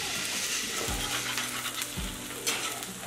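A fried egg in a cast iron pan sizzles steadily while a spatula scrapes and flips it, with a couple of low scraping thumps over the constant crackle.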